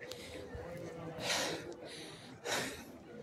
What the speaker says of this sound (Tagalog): Hingal kami kasi nga mula doon sa pinakababa hindi nila lalakarin to paakyat.